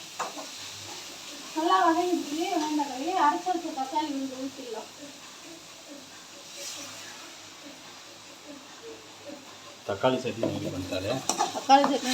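Onions or vegetables for bitter gourd kuzhambu sizzle softly in a pan, with a faint steady frying hiss and occasional stirring scrapes while someone speaks over much of it.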